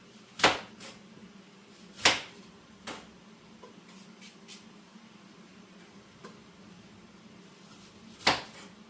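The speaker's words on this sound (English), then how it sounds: "I don't know if you guys can hear the cranberries there popping." Cranberries popping in a pot on the stove while cooking for homemade cranberry apple juice: a handful of sharp, isolated pops spaced a second or more apart, fairly close over a quiet background.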